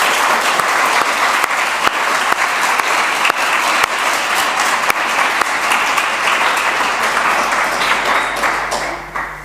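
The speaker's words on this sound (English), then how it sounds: "we can afford to give both of these teams another very large round of applause" Strong, steady applause from a school debate audience for both competing teams, many hands clapping loudly and continuously before tapering off at the very end.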